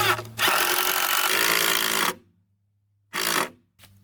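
Power drill driving a lag screw into a 4x4 wood post for a raised garden bed, a loud close whir for about two seconds, a pause, then a second short burst.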